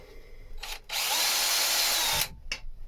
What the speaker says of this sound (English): So what I'm going to do is just drill out what's there.